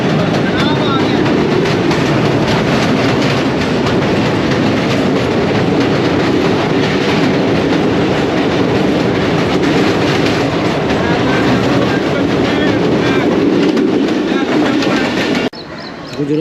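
Subak Raftar Express train pulling into Gujrat railway station, a steady loud rumble of rolling carriages with faint clatter, continuous and close, cutting off abruptly near the end.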